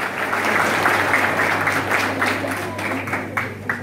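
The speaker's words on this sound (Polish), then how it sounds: "Brawo, brawo!" Sustained crowd applause at a school gymnasium ball dance show, steady clapping that thins slightly toward the end, with a few sharper individual claps standing out.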